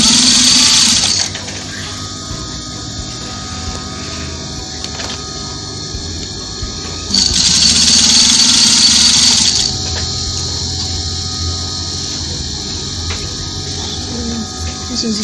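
A sewing machine runs steadily while stitching a men's African top, a constant close whir with a louder surge near the middle.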